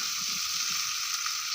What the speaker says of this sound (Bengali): পেঁয়াজ দিয়েছি, একটু চিনি দিয়েছি, দিয়ে এগুলো একসাথে ভাজছি